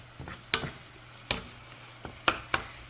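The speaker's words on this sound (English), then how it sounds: "we've got the onions going. They're getting soft." Frozen onions frying and softening in a pan, heard as a quiet sizzle with a few sharp scrapes and clicks from stirring at irregular intervals.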